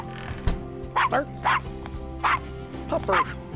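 A dog in the Gabriel Knight: Sins of the Father 20th Anniversary Edition game gives several short yipping barks and whimpers in quick succession, close and moderately loud over a low ambient hum.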